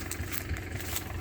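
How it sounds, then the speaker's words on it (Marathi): A Mahindra Yuvo 575 tractor fitted with a Shaktiman rotavator idles in a harvested pigeon pea field, a steady low diesel rumble that is continuous and moderately loud. "महिंद्रा एवो ट्रॅक्टर आहे"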